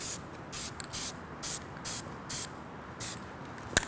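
Short bursts of aerosol clear coat hiss onto a car wheel in quick passes, roughly eight evenly spaced sprays with brief pauses between them, close and crisp, followed by a faint click at the end.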